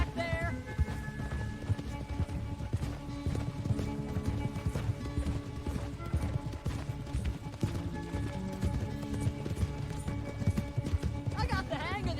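Galloping horse hooves from Red Dead Redemption 2 pound in a steady, rapid clip-clop across the whole stretch, with an occasional whinny and game music, while voices talk over the ride.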